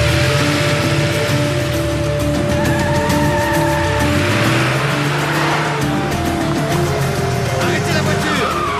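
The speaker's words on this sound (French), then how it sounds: "Arrêtez la voiture! Empêchez-les de partir!" A car revs and pulls away loudly nearby, the engine note rising and shifting with some tire noise as it drives off, while people shout over it.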